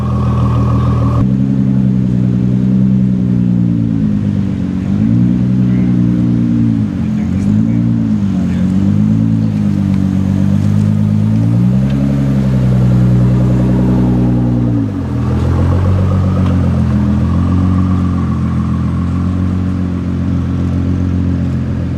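A Ford GT with the EcoBoost six-cylinder engine revs and idles steadily during a car week event: a loud, close engine drone with repeated rises and dips in pitch, and talk overlaps parts of it.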